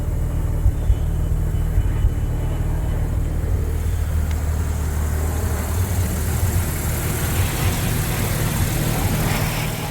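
A Mazda RX-7 rotary engine idles after a cold start, a steady low rumble with a lumpy, pulsing character that runs loud and unbroken throughout.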